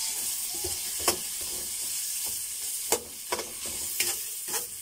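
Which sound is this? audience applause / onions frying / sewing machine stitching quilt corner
onions frying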